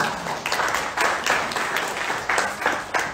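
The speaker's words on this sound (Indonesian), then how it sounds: "Tepuk tangan untuk kita semua." A crowd at a calligraphy workshop claps together in a steady, dense patter that runs throughout, loud and lively, with no voices standing out.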